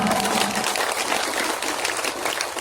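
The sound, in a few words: audience applause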